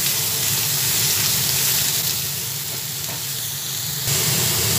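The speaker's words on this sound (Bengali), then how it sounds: "ভালোভাবে নাড়াচাড়া করে নিচ্ছি।" Bottle gourd with turmeric, for a gourd and prawn dish, is stirred in a hot pan, a loud continuous sizzle and hiss with rustling stirring throughout, no voices.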